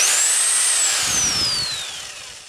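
A Bauer 1/2 inch extreme torque impact wrench runs freely with a loud, close, high whine that rises at start and then slowly drops in pitch and fades as it winds down.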